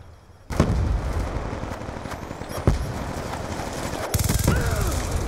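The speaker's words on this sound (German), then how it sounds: "er schießt einfach sinnlos durch die Hauswand durch und knallt mich ab" Sharp gunshots crack out in a short burst over a continuous noisy background, with sporadic single shots following, from Call of Duty Black Ops 2 multiplayer.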